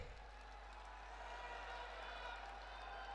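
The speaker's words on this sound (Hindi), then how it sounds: "एक बार तालियां फिर बजा दो जोरदार" A large crowd at a political rally in Kanpur claps in dense, sustained applause with a hiss of cheering. The wash is continuous and moderately loud throughout, with no single voice standing out.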